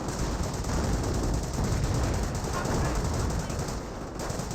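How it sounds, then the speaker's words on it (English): Sustained machine-gun and rifle fire pours onto Panzer Grenadier infantry in the World War II strategy game Company of Heroes, a dense, continuous rattle of overlapping bursts with no break for the whole stretch. "Looks like the Panzer Grenadiers receiving a bit of fire"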